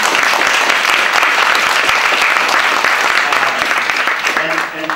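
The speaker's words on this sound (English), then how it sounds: "So yeah, round of applause." Loud, steady audience applause at a university entrepreneurship panel, sustained clapping throughout with a faint voice emerging as it fades at the end.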